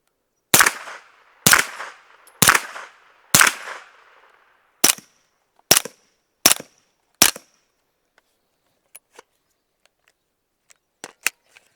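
A Springfield Kuna 9mm carbine fires four loud, sharp shots with ringing tails, then four shorter, crisper reports, evenly spaced outdoors, followed by faint clicks and one last small crack.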